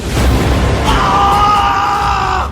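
A man lets out a long, loud scream of anger and pain, a single sustained cry filling the whole moment in a dramatized horror story.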